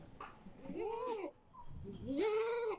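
Two clear goat bleats from goats at a farm selling for Eid in Dhaka, each a wavering drawn-out cry, the second louder and longer, close by with some background noise.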